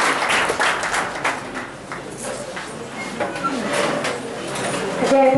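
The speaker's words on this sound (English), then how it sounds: "Loud round of applause" Loud round of applause from the audience at a college management entrepreneurs week event, with broadband clapping running steadily throughout and brief voices mixed in.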